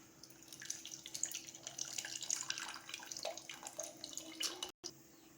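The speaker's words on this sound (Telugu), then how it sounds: "ఇప్పుడైతే చింతపండు నీళ్ళు అయితే పోసేసుకుందాం" Tamarind water streams from a vessel into a bowl of paste while panipuri is made at home, a quiet continuous splashing trickle that runs for several seconds before stopping abruptly.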